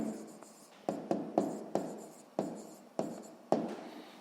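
A pen writes down a maths answer on paper by hand, making a series of distinct scratchy strokes at uneven intervals, close and fairly quiet with no talking.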